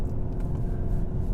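Artificial engine sound piped into the closed cabin of a Seat Leon ST Cupra 4Drive in Cupra mode after a downshift to second gear, a steady low droning rumble, close and continuous without talk.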